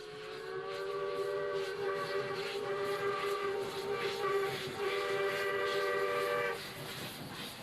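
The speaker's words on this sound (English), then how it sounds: "The locos have been switched round, and the R-Class now leads." South Australian Railways R-Class steam locomotive #621, Glasgow-built by North British, works along the line on a damp morning, its chime whistle sounding in several sustained blasts over a soft rumbling background.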